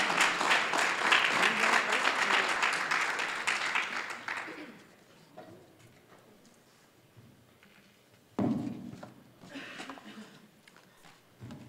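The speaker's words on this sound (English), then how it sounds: "Let's give these three young ladies a round of applause." Audience applause in a school hall during an academic hall of fame ceremony for three honored young women; loud, sustained clapping for about four seconds fades out, then a brief burst of talk and shuffling follows.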